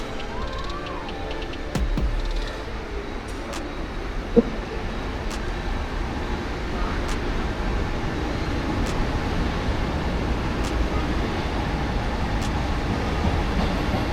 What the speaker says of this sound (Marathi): फायनली आपली ट्रेन पण आलेली आहे